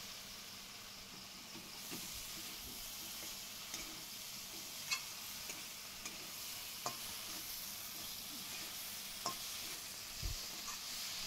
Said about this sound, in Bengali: এভাবে কিছুক্ষণ কচুরলতিটাকে কষিয়ে নিলাম